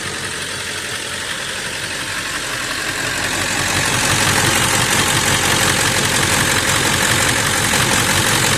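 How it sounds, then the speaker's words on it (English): A warmed-up 1999 Ford F350 with a 7.3 turbo diesel V8 idles steadily, a dense even rumble that grows slightly louder partway through and then holds constant. "The engine sounds much more confident now."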